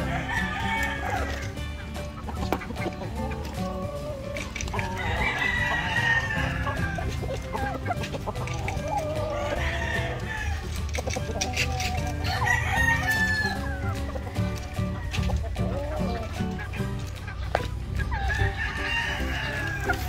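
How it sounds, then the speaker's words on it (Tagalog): Heritage chicken hens cluck steadily and close by while laying eggs, with a rooster crowing now and then in a busy farmyard. "Nangingitlog yung inahin."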